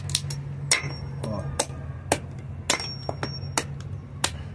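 Someone strikes the side of a whole coconut to peel it, giving a run of sharp, close knocks at an irregular pace over a low steady hum, with no speech.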